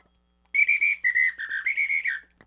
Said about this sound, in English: I got my whistle collection here.